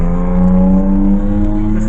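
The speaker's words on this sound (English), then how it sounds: "everybody's revving up their motors" Car engines revving outdoors on a sunny day, a steady loud motor drone with a sustained low hum running throughout, no pauses.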